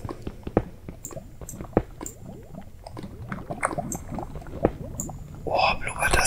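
Liquid bubbles and gurgles in Minecraft with soft irregular drips and squishy pops, while a quiet voice murmurs over them. The bubbling grows louder near the end.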